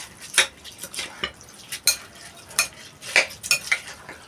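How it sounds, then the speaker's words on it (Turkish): A spoon stirring the filling mixture for Turkish stuffed peppers in a pot, giving irregular scraping clinks and soft wet shuffles at close range, with no one speaking. "Şöyle iyice ne karıştırıyoruz."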